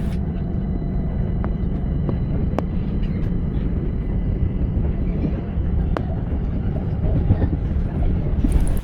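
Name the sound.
train running on rails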